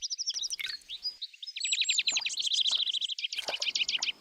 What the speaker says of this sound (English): Birds of all sizes go to these pools to drink and cool off